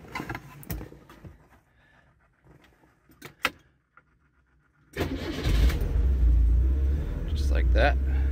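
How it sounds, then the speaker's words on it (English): A 1981 Fiat 124 Spider is cold-started: a few quiet clicks and a short crank, then the engine catches and settles into a loud, steady low rumble close up. "This is a cold start of 1981 Fiat Spider."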